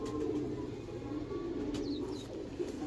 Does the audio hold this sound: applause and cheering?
no